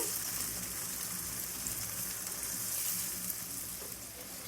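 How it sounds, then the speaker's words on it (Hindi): Tomatoes cook with browned onions in a pan for a Kabuli pulao, giving a steady, close hiss of sizzling that holds evenly throughout with no talk. "3 अदद टमाटर डाल देंगे। टमाटर गलने तक हम इसको कुक करेंगे।"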